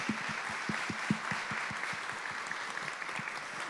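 Sustained applause from an audience at a medal award ceremony, steady dense clapping with a few sharper individual claps standing out near the front, continuing throughout without pause.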